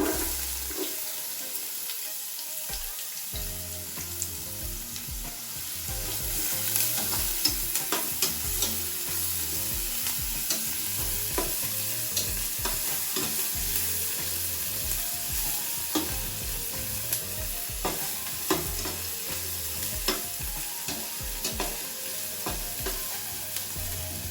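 Onions frying in hot oil in a pan give off a continuous loud sizzle, with crackles, bubbling and occasional stirring scrapes throughout, and no talking.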